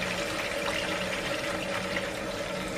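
Water gushes steadily out of a car radiator being flushed, a continuous splashing rush that spills dark sludge. It holds at an even, fairly loud level for the whole stretch, and no one speaks.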